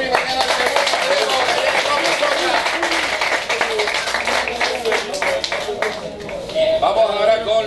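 An audience at a boxing weigh-in claps in a dense, steady patter that continues for several seconds, while a voice speaks over it through a loudspeaker.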